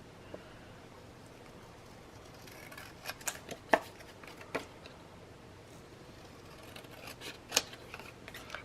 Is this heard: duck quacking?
no